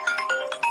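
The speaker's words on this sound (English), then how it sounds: "Who calling you? Answer the phone." A phone ringtone plays a quick, bright electronic melody, loud and close, with no voices over it.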